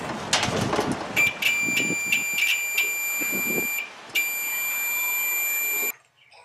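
A multimeter on its continuity setting gives a high, steady electronic tone while testing a GE electric dryer's thermostat, starting in short beeps and then holding a long continuous tone, with some clicks and handling at the start.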